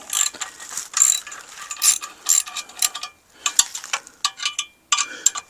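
Ratchet tightening the bolts on an exhaust decat pipe: bursts of rapid clicking pawl strokes in uneven runs with short pauses, close and fairly loud, no talk.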